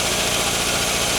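A drill spins the flywheel of an old boat engine to charge the coil, giving a loud, steady whirring drone with no break and no talking.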